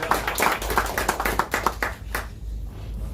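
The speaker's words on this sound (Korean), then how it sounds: "목사님 나오실 때 할렐루야 박수로 맞이해 주시기 바랍니다." A church congregation at a morning prayer meeting claps together to welcome a pastor, a dense burst of rhythmic hand claps that fades out after about two seconds.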